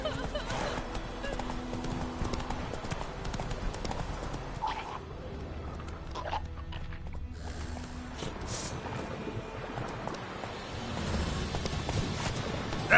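Roach, the horse in The Witcher 3, trots with steady clip-clop hoofbeats and an occasional whinny, close and continuous beneath game ambience and someone speaking.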